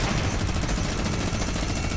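Rapid bursts of gunfire from a Fortnite video game fight, dense and continuous, loud and alone without talk.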